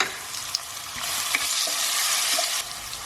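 Crushed ginger and garlic fry for a mutton curry, a steady bright sizzle filling the clip while a spoon stirs through with a few soft scraping knocks, close and loud, with no talking.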